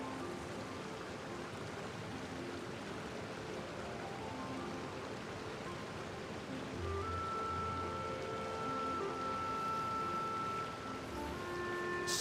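Rain falls steadily in the video game Genshin Impact, a soft continuous hiss of drops, with faint musical tones drifting in underneath and swelling slightly in the second half.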